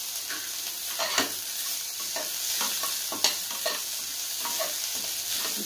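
Chopped onions with a little sugar sizzle steadily in a pan for kanda poha, with a constant high frying hiss broken by scattered stirring scrapes and a few sharper clinks, close and fairly quiet, no talk.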